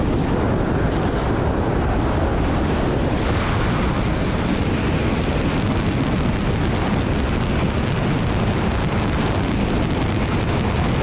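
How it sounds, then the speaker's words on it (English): A jet engine in a video game roars continuously and loudly for the whole stretch, a dense, steady broadband rush with no talking over it. "This guy turned into a jet."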